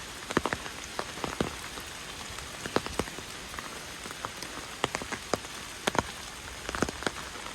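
Rain falls outdoors on a flooded street, a constant patter with frequent sharp drips and taps close by, some drumming as if on an umbrella overhead, and no talking.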